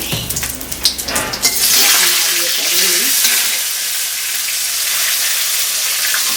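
White cumin seeds dropped into hot oil with a bay leaf and dried red chilli, bursting into a loud, steady sizzle that keeps going after a few sharp crackles at the start.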